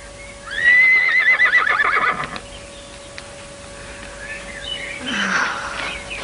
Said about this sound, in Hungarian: Egy ilyen szép ló nem kallódhat el.